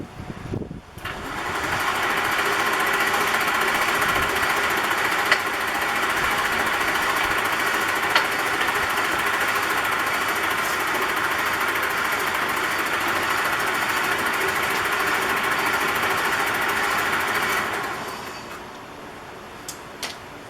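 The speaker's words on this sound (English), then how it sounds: "so just like that we got the motor spinning, we can see the wheels turning" An electric motor fitted to a 1968 Fiat 850 Spider spins the wheels in second gear on 12 volts, a loud, steady whine with a mechanical hum that holds for about seventeen seconds before winding down.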